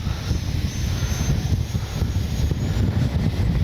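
Arrows Red Hawk 50mm electric ducted-fan RC jet flying at half throttle on a windy day, a steady airy whoosh heavily buffeted by low wind rumble against the microphone.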